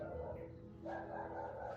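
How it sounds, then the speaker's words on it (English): Dogs barking in a backyard, a couple of muffled, distant barks rising over low background noise, no talking. "I have doggies barking in the backyard"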